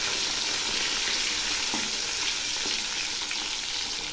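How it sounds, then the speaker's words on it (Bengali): Pieces of fish crackle and hiss in hot oil while being turned. A constant close sizzle is broken by a couple of brief scraping knocks, with no talking. "এবার আমি মাছগুলো একটু ঘুরিয়ে দিচ্ছি।"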